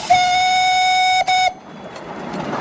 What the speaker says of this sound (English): Whistle up around the corner.